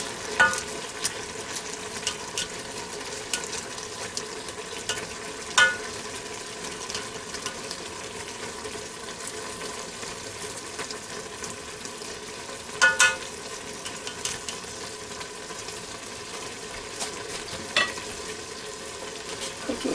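Shrimp sizzle loudly in a Ninja Foodi Deluxe pot, a constant close frying hiss broken by occasional clinks and scrapes as they are spread and stirred.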